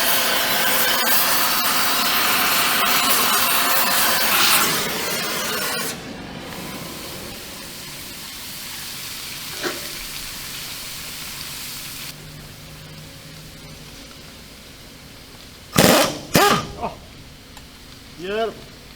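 A pneumatic impact wrench with a special impact socket works a suspension bolt on a Grant tank, giving a loud, steady hammering rattle for about five seconds that then drops into quieter workshop noise, with voices talking nearby.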